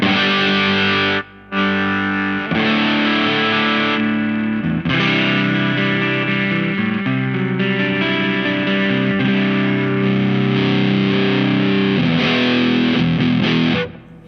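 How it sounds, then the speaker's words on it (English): An electric guitar plays sustained chords through a Kink Pedals Retribution Fuzz pedal, thick fuzz distortion ringing loudly with brief breaks between held notes. "So you get a lot of fuzz tones from those two switches"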